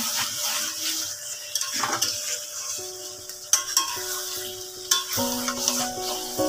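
Close, uneven scraping and clattering of a spatula stirring food in a sizzling pan, in several separate bursts with quieter frying between them and no voices.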